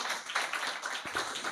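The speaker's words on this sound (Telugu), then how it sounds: "గట్టిగా చప్పట్లు" Loud applause from a church congregation during a sermon, a dense continuous wash of clapping held steady at a constant level for the whole moment.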